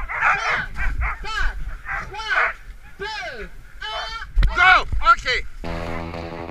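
Several sled dogs bark and yelp excitedly in quick overlapping bursts, close by, with high whining calls mixed in.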